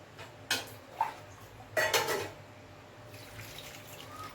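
Kantule vegetables being washed in water in a kitchen vessel, with a few distinct clinks and splashy knocks of dishes and utensils, separated by pauses, close and fairly quiet.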